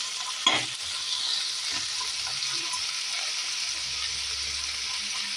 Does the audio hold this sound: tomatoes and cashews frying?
yes